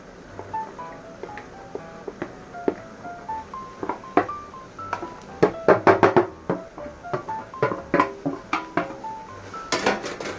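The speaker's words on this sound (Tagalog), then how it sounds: "Ilalagay na po natin itong carrots at saka labanos" Chopped carrots and radish dropped into a cooking pot of bupis, giving a run of close clinks and knocks of vegetables and utensils against metal, clustered around the middle and end.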